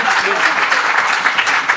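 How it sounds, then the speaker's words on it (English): Loud, close applause at a fireside chat on capital formation, with dense clapping and a faint hint of voices mixed in. "A round of applause."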